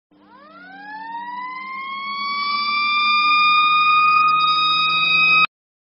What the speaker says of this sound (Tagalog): This is the sound of a fire truck.